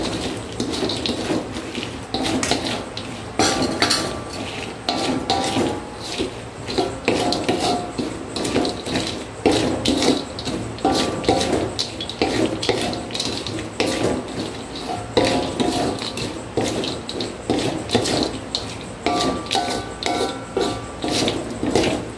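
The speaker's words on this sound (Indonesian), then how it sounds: "Ini tempenya mau aku masukin dan diaduk cepat biar bumbunya merata ke semua tempe" Fried tempeh being stirred quickly with spices in a pan, giving steady scraping and rubbing over continuous sizzling, close and fairly loud, with no talking.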